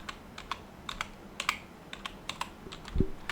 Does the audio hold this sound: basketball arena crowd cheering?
no